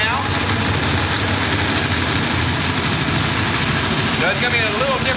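A pulling tractor powered by twin naturally aspirated Ford engines runs at a steady, heavy idle at an outdoor tractor pull, loud and continuous, with an announcer talking over the rumble.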